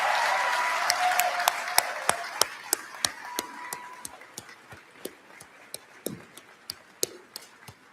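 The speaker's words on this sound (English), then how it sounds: "can we have one big round of applause for all these amazing graduates" Crowd applause for graduates at a university commencement ceremony: steady, dense clapping from a large audience that holds strong and then slowly thins out, with a few sharp individual claps standing out near the end.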